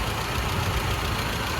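A 1995 Honda Civic EG sedan's D15 non-VTEC engine idles under an open hood, a steady low rumble without talk.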